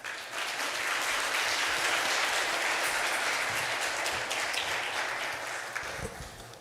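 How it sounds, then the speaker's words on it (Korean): A church congregation at a Korean Presbyterian Sunday service applauds warmly, a full, even wash of clapping that swells quickly, holds, then tapers off near the end. "나오실 때 힘차게 격려의 박수로 맞이하겠습니다"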